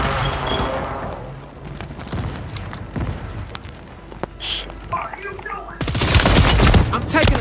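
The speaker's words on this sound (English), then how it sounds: "Taking a ton of lead shots." Gunfire rattles in Call of Duty Warzone: sharp, scattered shots crack intermittently throughout, then a dense loud burst erupts near the end, with a voice talking over part of it.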